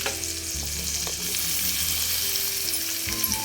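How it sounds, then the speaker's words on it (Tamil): Onions and green chillies fry in hot oil in a wok, giving a steady, close sizzle with the occasional scrape of stirring and no voices. "இப்போ வெங்காயம் போட்டு பச்சை மிளகா எல்லாத்தையும் போட்டு நல்லா வணக்கிக்கலாம்"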